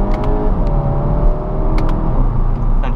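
A 2014 Skoda Octavia RS with a TSI engine and DSG gearbox, set to sport mode with manual shifting, revs loudly and steadily up close, its strong engine drone holding throughout with no speech.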